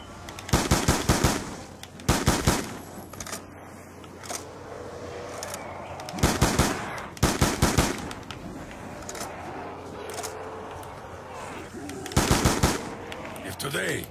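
Gunfire in a zombies video game: repeated loud bursts of rapid automatic shots in clusters, separated by quieter stretches with faint background game sounds.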